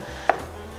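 One sharp knife chop through a plantain against a cutting board, a single crisp tap in an otherwise quiet room.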